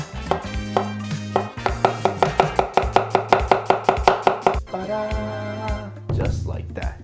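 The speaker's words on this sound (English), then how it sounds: "And lastly, we're gonna chop up some onion." A knife chops onion thinly on a cutting board in a rolled-omelet kitchen, with a quick, steady run of about twenty crisp, close taps, pausing near the end as a voice talks over it.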